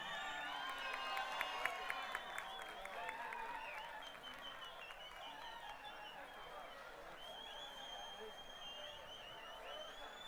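Audience at an international culture festival applauding a folk arts troupe, sustained crowd clapping mixed with cheering and a voice over a PA, heavier at the start and easing slightly later.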